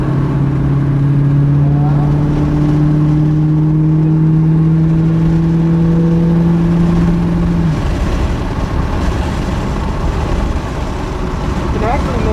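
Loud car engine on the Mid-Ohio race track, a steady droning tone rising gradually in pitch as it accelerates, then dropping away partway through into rougher road and wind noise.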